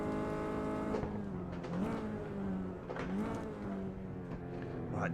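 RenaultSport Megane 275 Trophy R engine on the Nürburgring, a steady close in-car drone with pitch dips and blips as gears drop, continuous and loud throughout.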